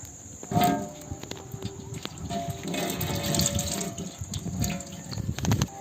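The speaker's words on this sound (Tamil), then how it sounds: "இப்போ நம்ம வந்து எடுத்து வச்சிருந்த சுத்தமான சூரியகாந்தி எண்ணெயை நம்ம வந்து ஊற்றிடலாம்" Sunflower oil is poured into a hot pan for quail biryani, a soft trickling and sizzling hiss with clinks and knocks of the pan nearby, no one talking.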